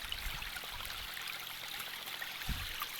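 Steady broadband rush of flowing water, like a small stream running continuously, with a few faint low thumps; no voices.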